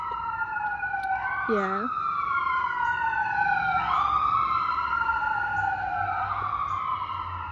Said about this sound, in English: There's sirens going by my house right now.